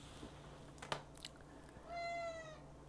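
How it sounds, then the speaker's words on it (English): A house cat gives a single drawn-out meow near the end of a quiet indoor stretch, preceded by a few faint clicks and small chewing noises. "That's my cat, by the way."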